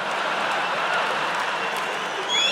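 Audience applause at a Bill Burr stand-up comedy show: a steady, dense wash of clapping from a full crowd, sustained at even loudness with a slight swell at the end.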